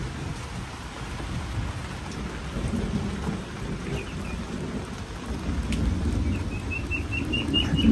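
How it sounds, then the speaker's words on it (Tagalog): Steady rain falls outdoors near a house with rumbles of thunder, a continuous hiss of drops on surfaces building slightly louder toward the end, with faint chirps of birds in the background. "Naulan kasi eh."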